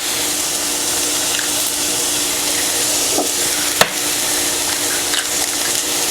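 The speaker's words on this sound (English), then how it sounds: "take your bitter melon and gonna let it cook for a little bit" Bitter melon sizzling in a pan over medium-high heat gives a steady, bright hiss of frying, broken by a few sharp clicks and spatters, with no voices.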